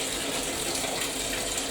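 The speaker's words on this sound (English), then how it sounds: "Let me just run a little bit more water." A tap running water into a bath, a steady broadband rushing gush with no breaks, moderately loud and close, with no voices.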